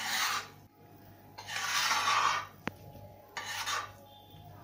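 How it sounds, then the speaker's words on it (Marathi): Pav bhaji vegetables being mashed in a pan, heard as bursts of gritty rasping and scraping separated by short pauses, with one sharp metallic clink partway through. "ह्याच्यामध्ये आपण अजून थोडी हिला मॅश करून घेणार आहोत"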